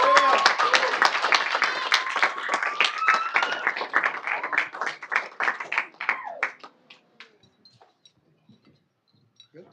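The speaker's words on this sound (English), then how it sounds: "Let's give another round of applause." Applause from a city council meeting audience for honorees, a dense burst of clapping that thins into scattered claps and fades out over several seconds.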